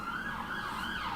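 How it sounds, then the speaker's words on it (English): A quick wailing emergency siren in Football Manager 2018, rising and falling twice in a smooth repeating sweep, faint and steady with a low background hum. "It's a quick siren that was"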